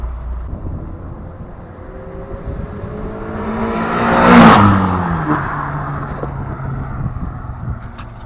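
A Mazda MX5 fitted with a Malian exhaust makes a drive-by, its engine note rising as it approaches, peaking loudly up close around the middle, then fading away, with wind rumble throughout.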